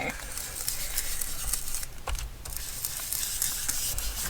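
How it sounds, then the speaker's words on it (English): Coffee spray misted from a spray bottle onto inked collage paper for a weekly planner page, giving a steady close hiss of fine spritzes with a brief louder burst near the middle and no talk. "why don't we just use a little bit of coffee spray to activate our oxide"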